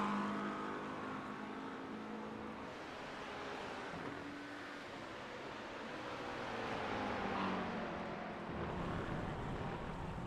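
GT3 race car pulling out of the pits at Brands Hatch, a steady engine drone with shifting harmonic tones that stays loud and continuous throughout, rising slightly toward the end.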